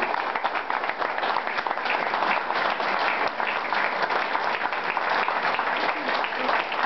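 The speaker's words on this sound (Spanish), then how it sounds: "démosle un aplauso" Applause from an audience at a local political list presentation, steady dense clapping throughout at a full, even level with no break.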